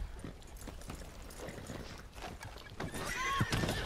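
A horse in the Red Dead Redemption 2 video game clops its hooves over soft background noise, then lets out a rising whinny near the end.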